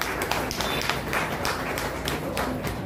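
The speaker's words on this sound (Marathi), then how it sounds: "सगळ्यांनी जोरदार टाळ्या वाजवा" An audience claps at a Babasaheb Ambedkar Jayanti celebration, with a dense, steady patter of many hands that continues evenly through the whole stretch.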